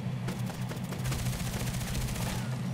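Rapid P90 submachine gun fire in the shooter game Contract Wars, a fast, steady automatic burst close up that continues for a few seconds with no talking.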